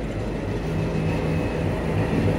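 The Mongla Commuter train departs Mohammadnagar railway station with a steady, loud low rumble and engine drone, close by and without a break.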